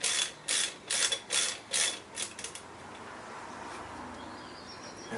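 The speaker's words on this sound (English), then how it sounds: "now I'm going to tighten these down and torque them to spec" A ratchet clicks in several quick bursts close by while tightening bolts on the thermostat housing of a 1968 MGC, followed by a quiet pause.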